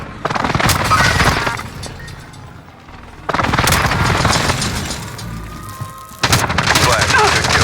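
Airstrike explosions in a shooter game, three heavy booming blasts spaced a few seconds apart, each followed by a rumbling tail, with voices talking over the barrage.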